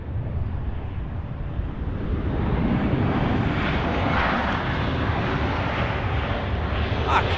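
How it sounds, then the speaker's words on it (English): A Delta Airlines Airbus A319 airliner landing at Los Angeles airport: a loud, broad jet roar that builds and holds steady across the whole stretch, with no voices over it. "that is Delta Airlines 2265 coming in from Portland on an A319"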